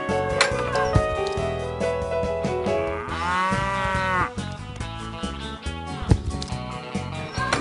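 Cows moo over lively background music, a few drawn-out lowing calls mixed into the busy track.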